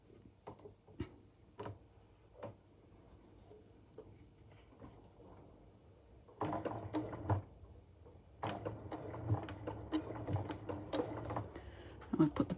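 Scattered ticks and clicks come first, then a sewing machine runs in two close bursts of rapid stitching while sewing a zippered cushion made from a quilt block, the second burst longer.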